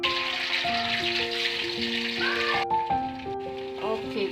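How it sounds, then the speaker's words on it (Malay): Loud, steady sizzling of marinated chicken frying in hot oil that cuts off abruptly partway through, with a melodic tune playing underneath. "lepas tu kita goreng ayam yang kita perap tadi"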